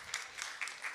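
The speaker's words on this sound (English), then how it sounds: "Clap yourselves." Short, faint bursts of clapping from a church congregation during a Seventh-day Adventist service, several loose rounds of hands heard at a distance in a quiet room.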